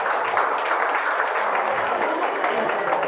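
Audience members at a lecture during a foundation launch clap in loud, dense applause that stays even and unbroken for a few seconds.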